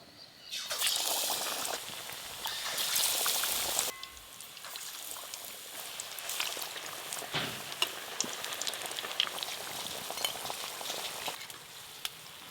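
Potato chops and banana flower chops deep-frying in hot oil, a loud bubbling sizzle that surges at first, then settles into a steady crackle with small pops, with no one speaking.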